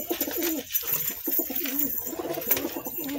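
A pair of Kolkata bloodline Madrasi pigeons coo in repeated soft throaty phrases close by, with fluttering and handling noises around them.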